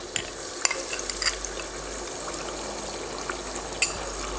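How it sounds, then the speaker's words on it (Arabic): Tomato paste fries in oil for an octopus kamounia stew, a soft, steady sizzle heard near the pan, broken by a few light clinks and stirring scrapes. "حطينا طماطم الكعب تقلات في الزيت"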